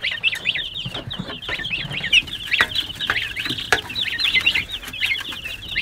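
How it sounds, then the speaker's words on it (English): A flock of Cornish cross meat chickens clucks and chatters continuously, many overlapping close calls in a busy uneven rhythm, with scattered knocks and shuffling underneath. "These are our meat chickens, our Cornish cross chickens."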